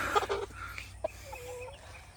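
Backyard chickens and roosters cluck softly in short, scattered calls at close range, a few quick bursts followed by a longer drawn-out cluck, fairly faint over quiet outdoor background.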